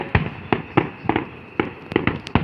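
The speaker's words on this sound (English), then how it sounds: "It's the carnival fireworks." Carnival fireworks at a fair and rodeo burst in an irregular volley of about a dozen sharp bangs, some close together, each with a short rumbling tail, and no talking.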